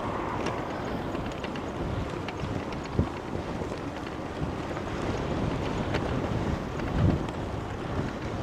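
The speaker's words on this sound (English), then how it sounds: "The wind is fighting me on the downhill." Strong wind roaring steadily past the microphone while cycling downhill on a road in Belgium, a loud continuous rush with occasional gusts and thumps.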